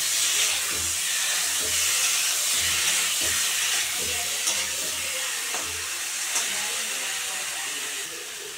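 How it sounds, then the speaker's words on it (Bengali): Whole garlic cloves frying in a pan with cumin, turmeric and Kashmiri chili powder for an egg and potato curry, giving a steady, fairly loud hiss and sizzle throughout with faint stirring clinks and no talk. "একসঙ্গে মিক্স করে রসুনগুলো সহ আমি দিয়ে দিলাম। এখন কষাবো।"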